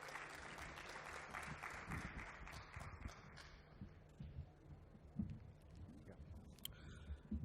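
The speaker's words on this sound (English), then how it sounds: "Let's welcome him with a round of applause." Applause from an audience welcoming a speaker onto the stage at a fintech product launch event, a steady patter of many hands clapping through the whole stretch, fairly quiet and with no talking over it.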